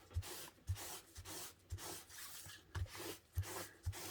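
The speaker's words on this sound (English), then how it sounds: "wipe off where that emboss was" Paper being wiped clean of embossing powder residue, with soft, repeated rubbing strokes at a steady rhythm, quiet and close, with no talking.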